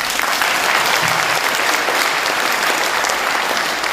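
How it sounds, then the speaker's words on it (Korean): Audience applause at a public lecture by the Seongnam mayor in Guri, a loud, dense, continuous burst of clapping from a crowd lasting several seconds with no talk over it. "보수라고 생각되면 박수하고."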